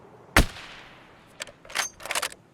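A single sharp rifle shot from a modded Remington 700 in Escape from Tarkov, loud and close, trailing off into echo, then a few fainter scattered clicks and rattles of handling.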